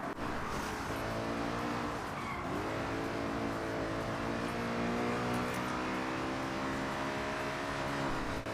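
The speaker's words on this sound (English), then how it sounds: "the naturally aspirated V8 sounds great and is well executed" A loud, sustained naturally aspirated V8 engine of a BMW M3 in a video game roars and revs steadily, its pitch rising and settling with a rich multi-cylinder growl, alone without voices.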